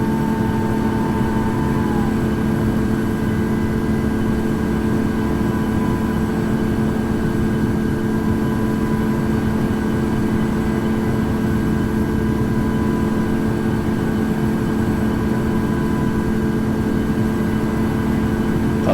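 Twin engines of a Boeing 737 MAX 8 in the Infinite Flight simulator hold a steady, loud drone with a constant tonal whine throughout, powering up for takeoff on runway 27 with no talk.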